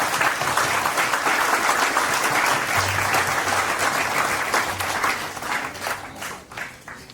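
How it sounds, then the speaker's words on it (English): A large audience at an AICTE chairman's talk at NDIM claps in sustained, dense applause that holds steady and then thins out near the end. "So let's give a big applause."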